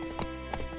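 A horse clip-clops in The Witcher 3, two quick clusters of hoofbeats close by over a low hum.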